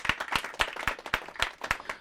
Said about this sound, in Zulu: Cela sibaphe likhulu ihlombe.